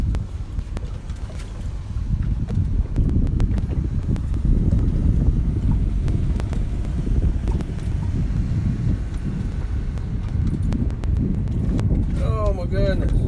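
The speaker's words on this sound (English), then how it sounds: "The wind is not helping me." Wind buffets a small fishing boat out on the Gulf of Mexico, a steady low roar and rumble across the whole stretch, with a faint voice briefly near the end.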